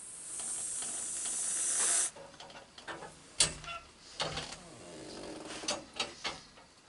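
Whipped cream sprays from a can onto a plate in one steady loud hiss of about two seconds. Scattered clicks, taps and soft rustling follow.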